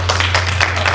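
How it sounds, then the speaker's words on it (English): An audience at an industrial livestock health report launch applauds, a brief, dense patter of clapping over a steady low electrical hum. "Please let's give a round of applause for"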